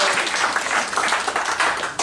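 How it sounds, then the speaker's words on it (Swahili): A church congregation claps together during a Swahili-language worship service, a dense, steady patter of many hands lasting about two seconds with no voices over it. "Basi tutajipigia makofi kwa sababu ya kufika katika ibada ya leo."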